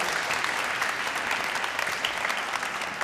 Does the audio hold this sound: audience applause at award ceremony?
yes